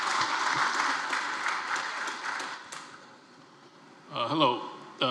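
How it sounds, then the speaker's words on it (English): Audience clapping after a cybersecurity conference panel, a dense burst of applause that thins out, followed by a person speaking nearby. "Yes, let's clap."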